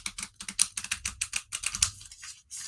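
Overhand shuffle of a deck of playing cards, a quick run of about twenty crisp riffling flicks in a steady rhythm, close and fairly quiet, breaking off briefly near the end.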